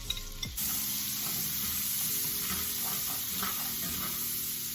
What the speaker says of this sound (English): First thing that I'm going to cook is my shallot, because that takes the longest